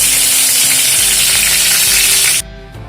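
Cauliflower pieces sizzle loudly in hot oil in a kadai, a steady broadband frying hiss that cuts off abruptly near the end, leaving faint low residual noise.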